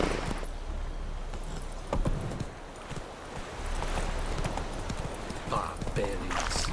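In The Witcher 3, the horse Roach trots along with a clear, rhythmic clip-clop of hooves, while a voice talks over the steady stepping.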